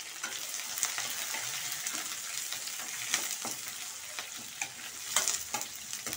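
Vada manchurian fries in a pan with onion and capsicum, giving a steady, close sizzle broken by repeated scraping and clattering strokes of a spatula as it is stirred.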